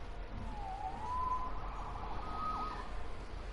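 A distant siren wails and warbles faintly over a low background hum, rising and falling a couple of times.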